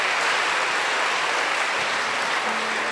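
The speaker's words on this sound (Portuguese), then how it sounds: "todo mundo bate palmas, vai lá, bate palmas" Applause from a church congregation during a Catholic Mass: a steady, dense wash of many hands clapping together, sustained and fairly loud throughout with no break and no voices over it.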